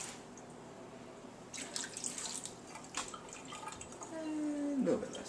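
Tap water runs into a measuring cup in a home kitchen, a faint, steady trickle with drips and small splashes, the pitch rising as the cup fills toward the end.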